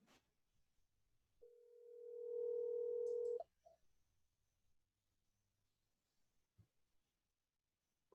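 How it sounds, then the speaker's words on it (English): A steady telephone tone sounds for about two seconds in a quiet room, then cuts off with a click and a few faint handling noises. "Somebody's making some phone calls."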